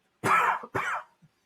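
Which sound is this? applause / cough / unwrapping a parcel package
cough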